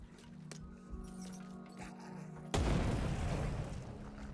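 A grenade blast in the zombie game Dead Island 2 bursts in loud and broadband after a quieter stretch of game sound, its boomy rumble and debris holding for almost two seconds.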